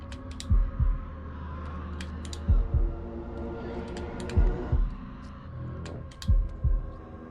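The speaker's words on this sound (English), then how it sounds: "Oh, no, not the heartbeat." A heartbeat sound effect in the horror game House of Ashes, deep double thumps repeating steadily about every two seconds over a low ambient drone, with faint clicks above.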